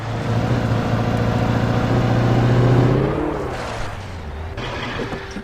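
An unhealthy-sounding truck engine in the video game Alan Wake drones loudly at a steady pitch, then winds down and drops off, with a slight rise near the end, without talk.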